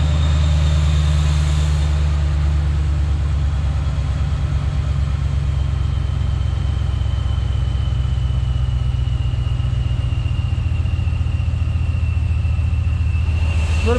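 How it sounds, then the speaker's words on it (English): A 2012 Hemi V8 in a 1500 truck idles steadily with a deep, continuous rumble, its pitch slowly dropping as the idle settles lower. "Hear the idle coming down."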